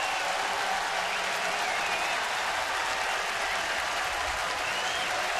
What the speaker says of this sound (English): And they're not all just Philly fans applauding.